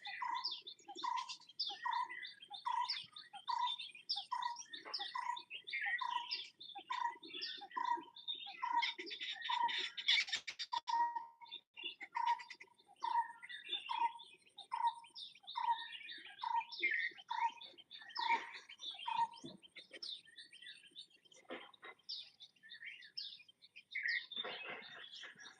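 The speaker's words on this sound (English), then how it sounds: "These birds, they are always in a group and very courageous birds." A group of wild birds near water on a scorching summer day, chirping and calling almost nonstop in quick repeated bursts, several voices overlapping, fairly close and steady throughout.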